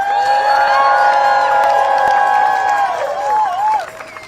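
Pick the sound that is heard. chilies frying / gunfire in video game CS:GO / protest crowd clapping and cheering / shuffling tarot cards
protest crowd clapping and cheering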